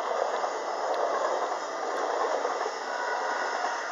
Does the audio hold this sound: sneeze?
no